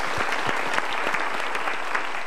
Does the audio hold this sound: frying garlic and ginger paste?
no